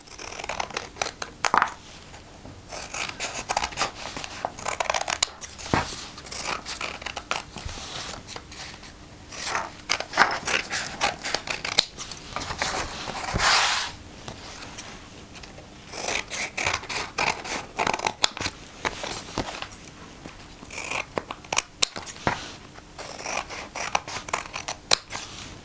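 Scissors snipping steadily through paper along drawn lines for a children's Christmas craft, a close, continuous run of crisp cuts and rustles with no talking.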